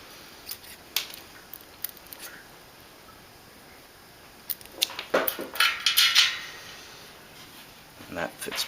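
Scissors trim rubber for a tubeless bike tire, a few sharp close snips scattered through a quiet room, with a denser cluster of cutting and handling noise in the middle.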